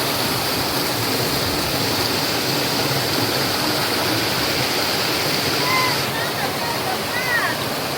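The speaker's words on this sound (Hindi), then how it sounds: "ये है जी बड़ी आबशार, काफ़ी ऊपर से आ रही है और नीचे को जा रही है।" A large waterfall with strong flow on the Lin Fung stream, a loud constant rushing roar of falling water close by, with brief faint chirps in the background.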